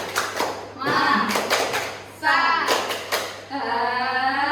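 Students in a classroom clap a rhythmic group cheer in short bursts, loud and close, with chanting voices mixed in between the claps.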